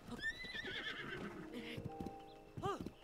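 A horse whinnies and its hooves clip-clop in the video game Tears of the Kingdom, with rising and falling neighs over a patter of hoofbeats and a sharp whinny near the end.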